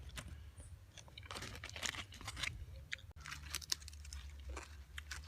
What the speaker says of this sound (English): Guys, hear the crunch.